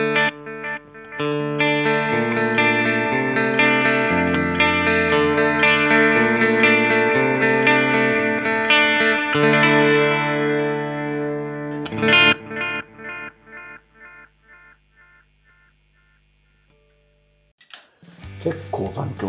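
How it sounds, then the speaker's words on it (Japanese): An electric guitar plays through an Animals Pedal Relaxing Walrus delay pedal with all knobs set to noon. A run of sustained chords and notes leaves echoing repeats that slowly fade into near silence before a voice starts talking at the end. "アニマルズペダルのリラクシングワルラスディレイ、 はい、 これいきましょう。"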